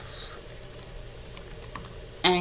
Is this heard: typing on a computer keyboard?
yes